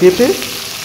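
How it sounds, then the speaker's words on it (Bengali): Potatoes, yardlong beans and other vegetables are stirred and fried in a pan, giving a short, loud, close sizzle with quick scraping stirs near the start. "তারপরে আলুটা একটু ভালো করে নেড়ে চেড়ে নেব বেশ কিছুক্ষণ ধরে"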